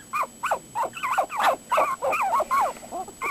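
A puppy gives a rapid run of short, high, wavering howls and whimpers, close and clear, each cry rising and falling in pitch with brief gaps between.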